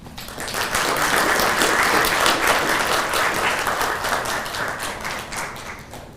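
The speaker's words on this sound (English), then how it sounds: "Another round of applause for Waziri, kindly." Sustained applause from the audience for the Waziri at a consultative meeting on Kenya's refugee situation at the Serena in Nairobi, dense and steady throughout, easing slightly toward the end, with no talking.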